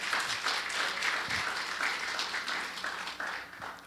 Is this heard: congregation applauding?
yes